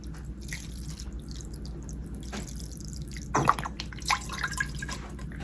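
Water and white vinegar are poured into a measuring cup, making soft liquid trickles and drips that rise briefly around the middle against a quiet kitchen background, near and fairly faint.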